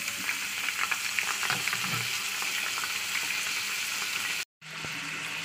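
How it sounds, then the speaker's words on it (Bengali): Vegetables, including banana and potato, fry in hot oil with a steady close sizzle and crackle, a few stirring scrapes, then a brief cutout before the sizzling resumes. "জাস্ট তেলটা গরম হয়ে দিয়ে দিচ্ছি সবজি"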